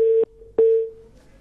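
A loud telephone busy signal after a caller's phone line drops during a TV talk show, a steady electronic tone that cuts off briefly and then resumes in a repeating on-off pattern.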